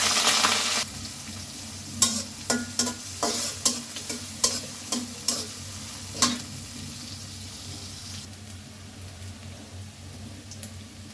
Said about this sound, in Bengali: হয়ে গেছে, পেঁয়াজ রসুন ভাজা ভালোভাবে ভেজে নিলাম।